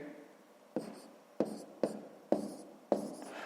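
Pen strokes writing numbers by hand on paper during a 5th-grade multiplication exercise, heard as about five short, distinct scratchy bursts at a steady rhythm, close and fairly quiet, with no talking.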